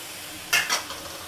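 Goat liver (kaleji) drops into a hot pot with black pepper, cloves and cumin, giving a soft steady sizzle broken by two quick metallic clinks of a spoon against the pan.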